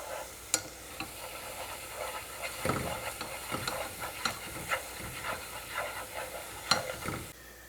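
Chicken wings fry quietly in hot oil, a soft continuous sizzle and hiss broken by faint stirring scrapes and small pops, with no talk.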